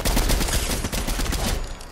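Dense, continuous gunfire in Fortnite, a loud, rattling stream of shots filling the short moment without pause.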